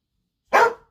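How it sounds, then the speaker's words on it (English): One sharp, close bark from a dog indoors, short and loud, with silence before and after. "Please excuse my dog."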